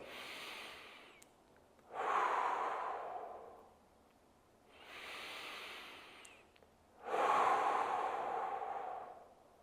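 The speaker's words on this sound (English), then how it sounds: "Big inhale, big exhale." Slow, deep breathing during a neck stretch: two long cycles of breath, each a soft airy inhale followed by a louder, rushing exhale, close and alone against a quiet background.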